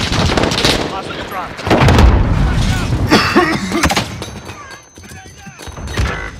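Grenade blast in Call of Duty: Modern Warfare Hardpoint multiplayer, a loud booming burst amid ongoing gunfire and chaotic battle noise, with a steady mix of shots and impacts throughout.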